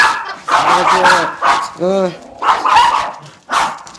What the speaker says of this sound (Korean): 애들은 조금 짖다가 마는데 얘는 끝까지 짖고